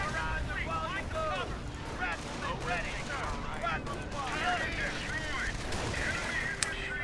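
Steady gunfire from Company of Heroes combat at Cherbourg, with rattling rifle and machine-gun bursts over constant rumble, while voices talk throughout.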